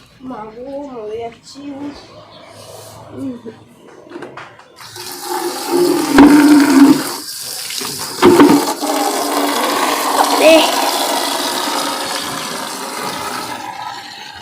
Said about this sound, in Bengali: আমি এখন রোদের মধ্যে চান করতে বসে গেলাম